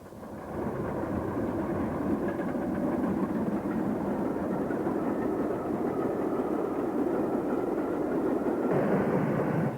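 Steam locomotive 34071 passing on the 1950s Southern Region, a steady heavy rumble of engine and wagons that holds loud and continuous throughout with no talking.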